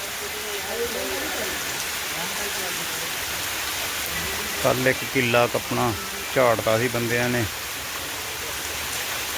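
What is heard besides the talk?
heavy rain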